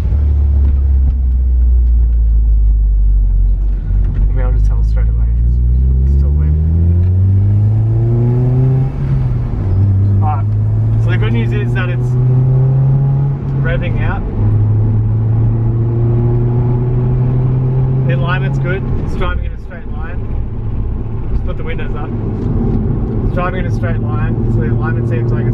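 A Honda Accord engine on the street revs repeatedly past 3,000 rpm, its loud rumble climbing and settling in several rising sweeps, with a voice talking over parts of it.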